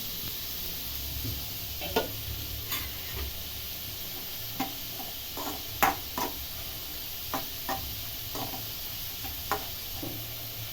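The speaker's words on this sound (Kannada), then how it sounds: "ಇದೊಂದು ಐದು ನಿಮಿಷ ಫ್ರೈ ಆಡಿಸ್ತೀನಿ" Eggplant fried with MTR vangi bath powder in a pan, a soft continuous sizzle broken by scattered sharp ticks and spatula scrapes at irregular intervals, close and fairly quiet, no talking.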